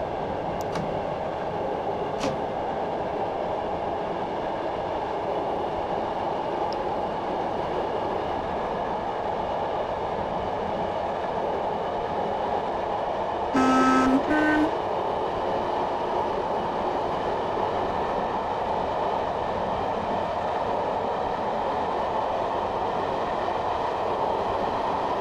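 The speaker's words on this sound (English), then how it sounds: "As we reach 70 miles per hour, I'm just going to idle the power now and allow the train to coast." Class 421 electric train coasting at 70 mph in Train Simulator 2018 on the Tonbridge to Hastings line, a steady rumbling rail roar with faint clatter and a brief tonal warning beep midway.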